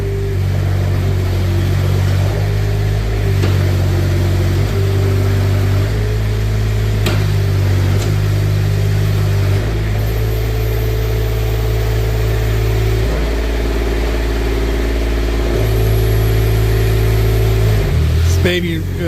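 Engine of a 2024 Manitou TMM45 telehandler runs during side shift operation, a loud steady mid-pitched hum whose pitch steps up and down as the hydraulics work.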